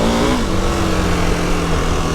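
A KTM 1290 Super Adventure S motorcycle engine pulls up in pitch briefly, then holds a steady drone as it rides on, heard close from the bike.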